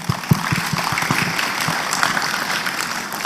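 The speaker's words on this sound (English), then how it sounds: "Please give a round of applause" An audience at an educational leaders' symposium applauds, with dense clapping that starts strong and settles into a steady patter, heard close and alone for a few seconds.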